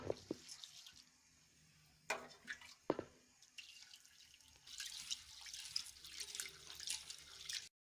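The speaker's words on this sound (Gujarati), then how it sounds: "ગરમ પાણી લઈને દાળ ધોઈ નાખીએ" Mung dal lentils are washed with hot water, giving soft splashing, trickling and dripping sounds with occasional louder sloshes, fairly faint and close, with no talking.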